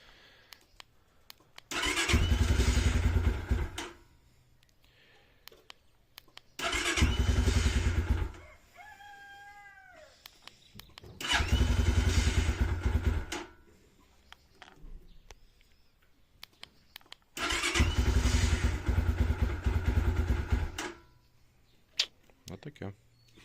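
A Chinese motorcycle with a PZ32 carburetor is cranked and started outdoors in cool weather, four loud bursts of engine cranking and catching separated by pauses, with a faint whine between tries.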